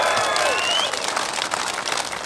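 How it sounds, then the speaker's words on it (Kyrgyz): Crowd applause at a large public gathering in Bishkek, Kyrgyzstan, a dense steady roar of clapping hands filling the whole moment, loud and sustained with a faint whistle-like tone at the start. "дүркүрөтүп бир шаңыраак кол чаап коюңуздар"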